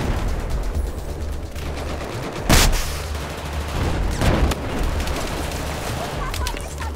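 Bursts of gunfire in the video game Battlefield 4 crackle over a steady rumbling background, with two sharper loud shots standing out.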